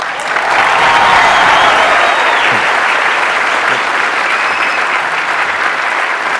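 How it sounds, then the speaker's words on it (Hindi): Dense, steady audience clapping fills the hall at a stage talk after a recited Urdu verse, loud and continuous from start to finish with no voices over it. "मेरा दिल रखने के लिए तालियां बजा रहे हो?"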